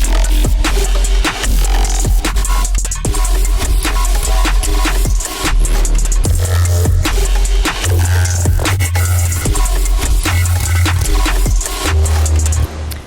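A music loop with its drums and percussion muted plays loudly and steadily, with dense layered tones and a pulsing low bass part that enters partway through.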